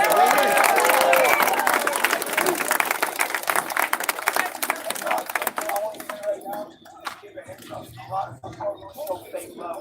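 A street crowd claps for a man called Willie at an outdoor occupation gathering in Denver at dusk, loud dense applause that fades after about six seconds into scattered claps and people talking.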